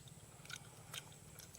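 Boiled black-eyed peas being chewed, a couple of faint soft bites and squishy mouth sounds close to the mic against a quiet background hum.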